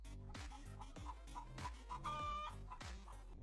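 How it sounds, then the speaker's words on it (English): Chickens on a farm cluck in quick, repeated bursts, with a rooster-like crowing call rising partway through, fairly close but quiet over a low steady rumble. "The chickens have been crowing for a while, they must be hungry."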